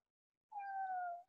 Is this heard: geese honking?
no